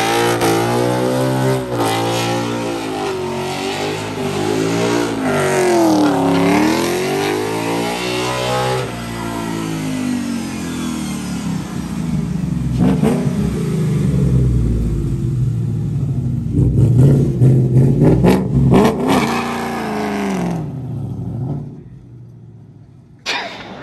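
A 1969 Ford F100 Ranger muscle truck engine revs hard and loud, with rising and falling harmonic sweeps and sustained rumbling, as during a burnout, before cutting off near the end.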